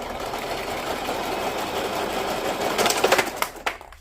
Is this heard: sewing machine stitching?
yes